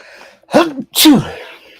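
A single loud, close sneeze with a sharp intake and burst, followed by quiet.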